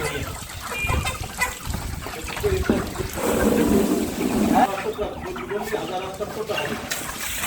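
Many chickens cluck and chatter in a busy poultry house while a person talks over the steady flock noise.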